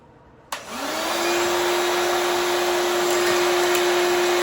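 A DeWalt wet/dry shop vacuum switches on with a thump and spins up into a loud, steady whining roar with a constant tone, with faint rattling of nuts and screws being sucked up.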